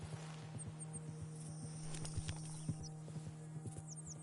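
Horse hooves clop steadily in Red Dead Redemption 2, a faint neigh rising over the rhythmic hoof falls, with a constant low hum and light outdoor ambience underneath.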